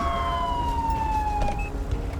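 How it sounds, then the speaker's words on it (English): Police car siren in GTA V with the LSPDFR mod, a steady wailing tone sweeping slowly downward, loud and continuous across the clip over faint game ambience. "All right, let me get my siren on."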